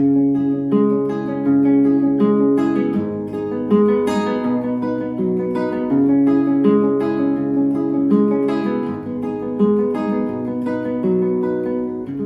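Steady acoustic guitar fingerpicking in a P-I-M-A-I pattern, plucked notes rolling evenly over sustained chords with regular chord changes, close and clear with no voices.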